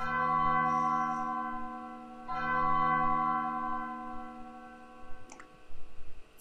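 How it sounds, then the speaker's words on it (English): Bells ring in the video game Undertale, a sustained, resonant tolling with one strike near the start and another about two seconds in. Both decay slowly under light ticking. "Oh, bells!"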